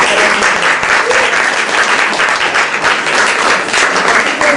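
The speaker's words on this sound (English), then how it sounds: "I think they deserve a round of applause" A reception crowd in London gives loud, continuous applause for a group of Everest base camp trekkers, with many hands clapping densely and evenly close by and no break in the sound.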